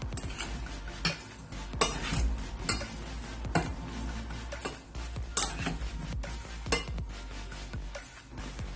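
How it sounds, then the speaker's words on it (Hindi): Chicken hearts are mixed in a bowl with lemon juice and ginger garlic paste, a spoon clinking and scraping in a steady irregular rhythm, close up over a low background hum. "इन तमाम चीजों को अच्छी तरीके से मिक्स करेंगे।"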